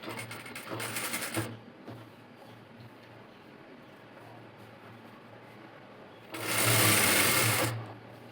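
A sewing machine stitches a tailoring seam through two joined fabric pieces in two rapid, rattling bursts, the first about a second long and the second louder, with a faint hum between them.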